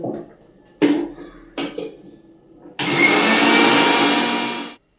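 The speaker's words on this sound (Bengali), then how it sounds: "নারকেলটা মিক্সিতে পেস্ট হয়ে গেছে" A kitchen mixer grinder grinds coconut into a paste with a little milk, giving a loud roaring burst of about two seconds after a few clinks and knocks of dishes.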